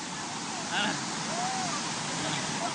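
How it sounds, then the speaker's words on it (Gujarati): Waterfall water rushes down steps by a Mahadev temple, a steady, loud, continuous roar filling the whole stretch, with a faint voice briefly audible over it. "તો ભાઈ ધોધનું પાણી અહીં આવે ને અમારે સીડી ઉતરવાની છે."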